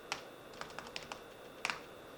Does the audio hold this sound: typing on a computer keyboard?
yes